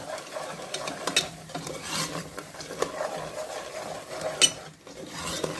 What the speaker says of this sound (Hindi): ये बेसन डालेंगे और इसको हम अच्छे से भूनेंगे डार्क कलर आते तक